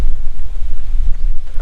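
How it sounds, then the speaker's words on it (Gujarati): Strong wind buffeting the microphone outdoors while a Quechua tent is pitched, a loud rumbling gusty roar with no other clear sounds. "થોડોક પવનનો ઇસ્યુ આવે છે."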